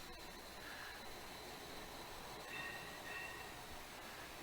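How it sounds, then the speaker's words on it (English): A streetcar rolls past outside a snooker exhibition hall in Seattle, a steady, muffled rail rumble with faint wheel squeals, distant and continuous under the room's ambience. "A little streetcar going by."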